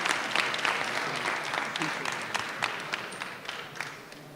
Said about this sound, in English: let's give the champion a great round of applause